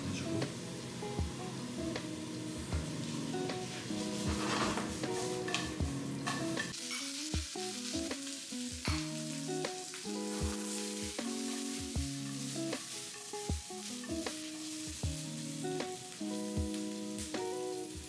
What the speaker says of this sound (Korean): 색이 안 나는 야채 위주로 볶는 이유는